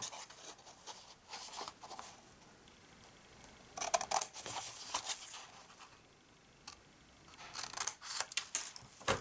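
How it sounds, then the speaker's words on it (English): Paper is cut along score lines while making a large gift bag, heard as quiet, close, intermittent bursts of snipping and rustling separated by brief pauses. "And then we're going to cut up our other score lines like this."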